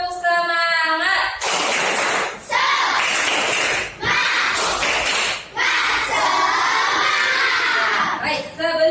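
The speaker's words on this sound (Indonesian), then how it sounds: "yuk kita tepuk semangat dulu ya" A class of students performs a tepuk semangat clapping chant, with loud, rhythmic bursts of group clapping and shouted chanting in short phrases, starting after a brief lead-in voice.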